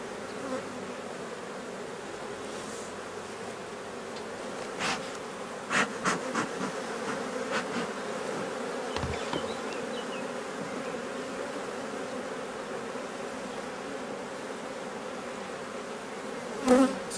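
A honeybee colony buzzes in an open hive, a steady close hum of many bees with a few louder bursts and knocks of handling equipment, quiet overall.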